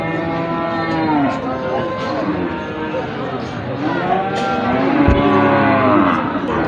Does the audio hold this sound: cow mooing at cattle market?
yes